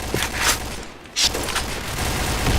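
Gunfire from a player in a shooter video game comes as dense, rapid bursts of shots with a short lull between volleys.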